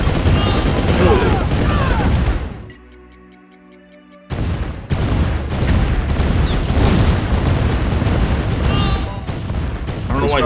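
Battle sounds from Red Alert as the base comes under attack: dense, loud bursts of gunfire and explosions, then a short lull filled with ticking electronic tones before the heavy barrage resumes.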